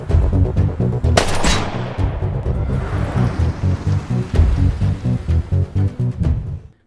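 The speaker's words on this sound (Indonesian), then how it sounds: "Tapi bodohnya, Wong malah menembak taksi Robbie." A rapid burst of gunfire rakes a taxi, loud and close, with fast repeated shots fading into steady rhythmic rattling and a crashing impact near the start.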